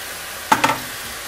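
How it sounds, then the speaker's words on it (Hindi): A spoon scrapes twice in quick succession through tomato and bay leaf frying in a pan for Greek pastitsio. Each scrape is short and clear, set against a soft, steady sizzle, and no one speaks. "और हम इसे अच्छी तरह भून लेंगे।"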